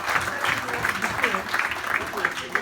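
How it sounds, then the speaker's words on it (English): Guests at a 50th wedding anniversary party clap briefly at moderate volume, with a voice speaking over the applause. "I think that deserves a round of applause."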